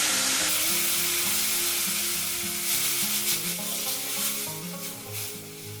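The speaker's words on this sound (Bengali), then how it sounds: "এবার এটা একটু জল দিয়ে ভালো করে কষে নেবো" Turmeric, cumin, coriander and chili powders with a splash of water sizzle and fry in a pan while being stirred, with a steady hiss over a low sustained musical tone.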